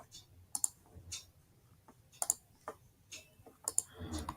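A computer mouse clicks on a link: sharp, close clicks arrive in small pairs at a few irregular intervals over a quiet background.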